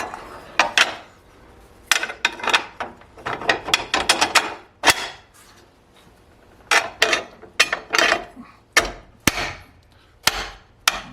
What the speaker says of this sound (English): so let's bolt that guy on now, make sure that's positioned